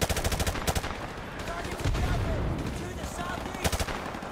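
Rapid game gunfire from Modern Warfare Remastered, with bursts of automatic fire at the start and again near the end and steady battle noise between, loud and close.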